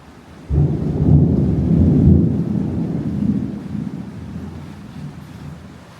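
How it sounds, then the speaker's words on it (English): Thunderstorm rolling in over Cozumel, Mexico: a deep, long rumble of thunder swells quickly, then slowly fades under steady rain and wind noise buffeting the microphone, with no voices. "As you can see, there's a storm approaching."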